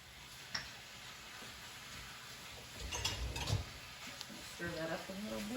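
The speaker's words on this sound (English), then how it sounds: "Stir that up a little bit." Bruschetta chicken stirred in a pot, with a utensil scraping and clinking softly. The sound is faint and close, with a few sharper ticks and a brief muffled rustle.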